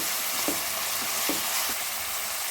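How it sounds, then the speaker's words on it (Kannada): Onion and tomato fry in a pan for chicken biryani, giving a steady close sizzle with a few soft stirring scrapes and no voices. "ಈರುಳ್ಳಿ ಸ್ವಲ್ಪ ಫ್ರೈ ಆದಮೇಲೆ ಟೊಮೆಟೊ ಹಾಕ್ಕೊಳ್ತಾ ಇದ್ದೀನಿ"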